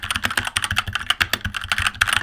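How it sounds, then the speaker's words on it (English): Stock Keychron K4v2 mechanical keyboard being typed on, sharp clacky keystrokes in a quick steady stream, close and fairly loud with no talking. "take your stock standard clacky keyboard from sounding like this"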